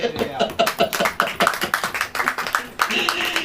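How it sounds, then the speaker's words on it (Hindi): A church congregation claps hands at a sermon, a close, loud run of fairly regular rhythmic claps with a voice talking and exclaiming over them. "हालेलुया, ताली बजाइए।"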